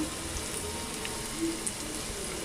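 Onion, garlic and green chillies frying lightly in oil for gobi manchurian gravy, a soft steady sizzle with faint crackles throughout, fairly quiet and continuous.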